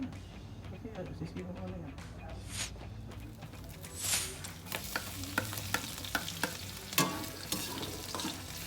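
Bamboo shoots sauté in rendered pork fat with no added oil, giving a steady frying sizzle broken by sharp clicks and scrapes of stirring, while voices talk faintly underneath.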